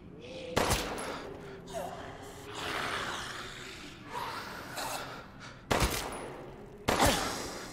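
Gunfire in the video game Resident Evil Village, including a headshot: a few sharp separate shots with quiet game ambience and breathy sounds between them.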